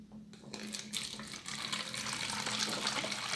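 Hot tap water pouring steadily into a bottle, a continuous close rushing splash with a low hum beneath, gently building in level over a few seconds, no talk.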